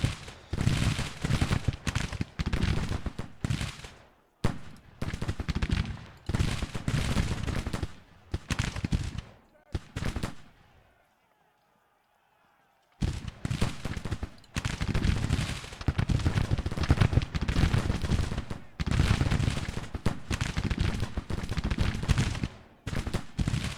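A Confederate rifle brigade's musket fire in Grand Tactician: The Civil War, with repeated volleys and crackling bursts of shots, loud and dense, broken by a brief silent gap before the firing resumes.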